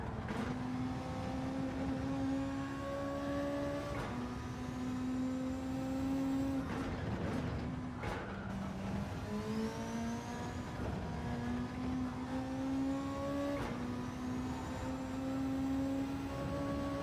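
A car engine in Gran Turismo 7 revs hard and continuously, climbing through the gears with repeated rising whines and quick drops at each shift, loud and steady throughout without any voices.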